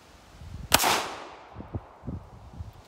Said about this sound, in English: I'm gonna shoot at that tree right there